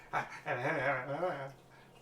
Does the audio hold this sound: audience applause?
no